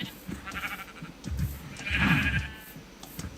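Sheep bleating in the video game Minecraft, a few separate close bleats, the loudest and longest in the middle, with quiet gaps between them.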